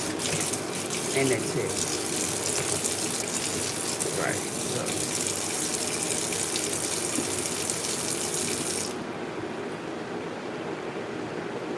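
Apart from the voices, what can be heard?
washing dishes at kitchen sink with running tap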